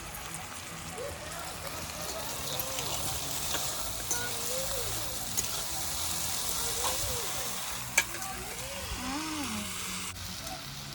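Leafy greens (saag) frying in a kadhai give a soft, steady sizzle and crackle, fairly faint, while a voice talks over the cooking.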